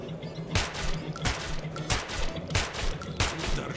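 Bursts of gunfire in the video game Metro 2033 Redux, several sharp loud shots spaced roughly every half second to second over a faint game background.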